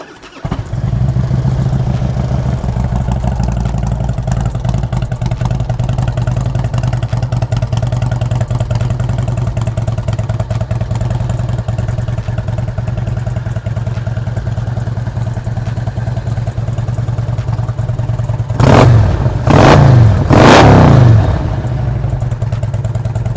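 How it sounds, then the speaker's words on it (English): A 2004 Harley-Davidson Road King engine idles steadily with a deep, loping rumble close by, then two sharp throttle blips rev it up near the end before it settles back to idle. "this bike is gonna have that classic Harley-Davidson tone to it"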